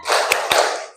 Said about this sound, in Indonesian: Ya, tepuk semangat.